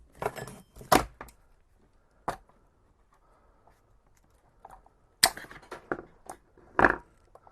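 Wire cutters snip battery wiring during a 123BMS installation on Winston LiFePO4 cells, making a series of sharp, close metallic clicks and snaps separated by quiet gaps.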